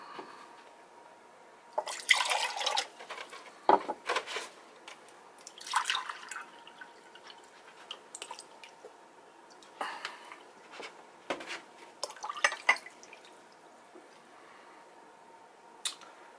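Water is poured into a pint glass jar while ginger beer is made in a home kitchen. It comes as irregular splashes, drips and sloshing bursts spread across the stretch, fairly close and moderately quiet, with gaps of near silence between them.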